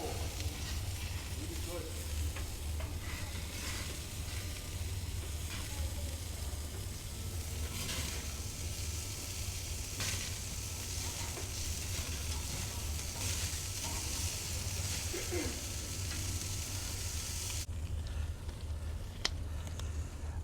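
Lamb chops sizzle steadily on a grill, a continuous loud frying hiss with occasional scraping and stirring sounds, while a person talks over it.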